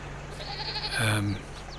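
Sheep bleating in the Farming Simulator 22 video game, a single drawn-out bleat rising near the middle of the clip over a steady low hum from the game.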